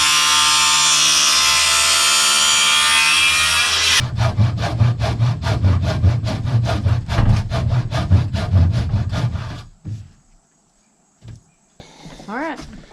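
Wood planks are cut while framing rafters and sheathing: a loud, steady power-saw roar gives way to fast, rhythmic back-and-forth sawing strokes close by, which then stop, leaving a few faint knocks.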